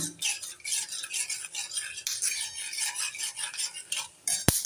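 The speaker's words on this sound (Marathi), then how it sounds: "लालसर असे शेंगदाणे मी भाजून घेते, तळून घेते तेलामध्ये" Peanuts roasting in oil in a pan, stirred with a metal spoon: busy scraping and rattling close up, with a soft sizzle underneath and a sharp clink near the end.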